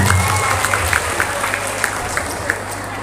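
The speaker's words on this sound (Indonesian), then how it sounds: "Tepuk tangan buat Mbak Imelda." Audience applause at a school democracy session with junior high students, moderate clapping from a small crowd over a steady low hum, with a few louder claps punctuating the spread.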